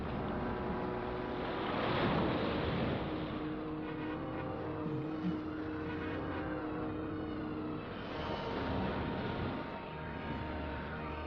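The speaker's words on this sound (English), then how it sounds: "sailing in the Pacific Ocean, a storm sprang up suddenly." Steady rushing roar of stormy Pacific Ocean surf and wind in an animated scene, swelling in two broad surges, with a low mechanical drone running underneath.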